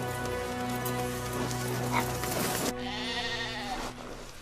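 Sheep caught out in the snow bleat in long, wavering calls, several animals overlapping nearby with a steady rushing background.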